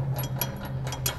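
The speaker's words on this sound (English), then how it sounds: "Now you'll go ahead and get it tight somewhat with your regular ratchet here." Ratchet wrench tightening a blade bolt on the deck spindle of a John Deere S240 riding mower, a quick run of close, crisp clicking strokes with no talk.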